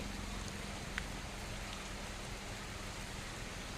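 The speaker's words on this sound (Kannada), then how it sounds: "ನೋಡಿ ಮಳೆ ಬರ್ತಾ ಇದೆ ನೋಡಿ ಅಂಗಳ ಎಲ್ಲ ಒದ್ದೆ ಆಯಿತು" Winter rain falls steadily on a wet courtyard, a soft, even patter and hiss of drops with a faint single tap near the start and no talking.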